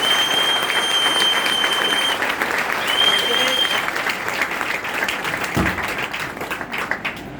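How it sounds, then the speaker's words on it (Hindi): Loud, sustained applause fills a hall as an audience claps continuously for the event's hosts and organizer, a dense steady roar of hands with some voices mixed in before it begins to thin out. "तो मैं चाहता हूँ तीनों के लिए पहला एक बार जोरदार तालियां होना चाहिए"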